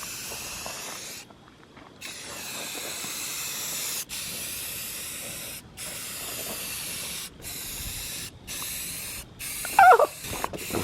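Filler primer hisses steadily from a spray can onto an intake manifold for a PT Cruiser GT, in long continuous bursts broken by short pauses, close and fairly loud, with no talking.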